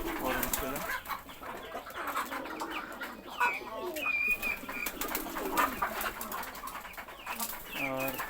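Pigeons coo softly in a newly built pigeon house, with repeated low, throaty coos rising and falling at close range, faint under a quiet background.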